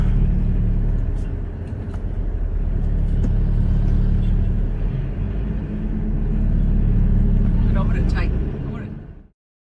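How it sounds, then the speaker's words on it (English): At a busy Kumasi transport hub, taxis and buses rumble past, with engines droning and passing close by, and occasional higher clatter and horn-like tones over the continuous traffic din before it cuts off abruptly. "Taxis and buses in there."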